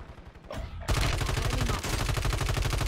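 Rapid automatic fire from an HRM-9 (Ram 9) submachine gun in Warzone 3, starting after a brief quieter lead-in and continuing as a dense, loud, sustained burst of close shots.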